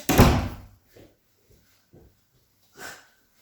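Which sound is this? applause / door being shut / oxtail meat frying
door being shut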